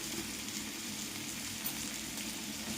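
Salted onions sauté in a pan while being cooked down, giving a soft, steady sizzle and crackle with faint stirring, quiet and continuous with no talking.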